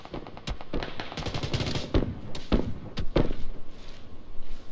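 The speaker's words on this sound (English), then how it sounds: "someone's shooting at me right now" Distant rapid gunfire in PUBG on a hillside, a string of sharp shots cracking in an irregular rhythm, some spaced and some in quick pairs, moderately loud with no talk.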